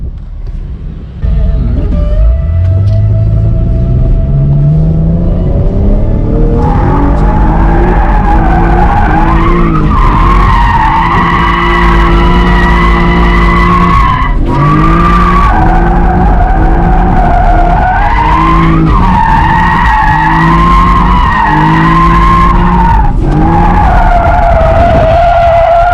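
An automatic V6 Camaro drifts around a track, its tires skidding and squealing in long, loud, continuous bursts over the roaring engine, with pitch rising and falling as the car slides through corners.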